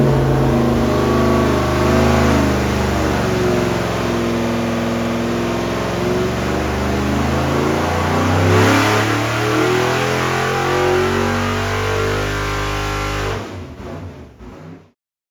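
Loud, sustained roar of a carburetted V8 engine held at high revs during a dyno power test, steady and close throughout before the engine drops off abruptly near the end.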